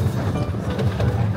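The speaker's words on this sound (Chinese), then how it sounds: "坐这火车本身就算是一个游乐设施。" Miniature-park amusement train ride heard from aboard, a steady rumbling roll with faint rhythmic clatter of the cars on the track, close and continuous for a moment.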